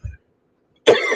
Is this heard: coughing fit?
yes